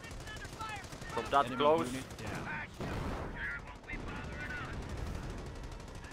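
Machine-gun fire in a Company of Heroes battle for Hill 317, with gunfire bursts and other battle noise running under a voice talking throughout.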